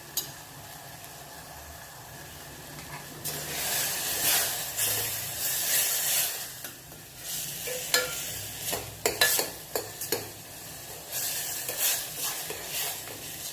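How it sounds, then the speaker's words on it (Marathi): Stuffed eggplant with chili powder, garam masala and ground coriander-cumin sizzles softly in a pan while a spatula stirs and scrapes it in uneven strokes, close by and fairly quiet, with no talking. "ह्याला परतवून घेऊया व्यवस्थित।"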